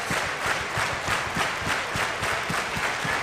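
A crowd at a wrestling match between England and Japan applauds and cheers steadily, a dense continuous wash of clapping heard at moderate distance.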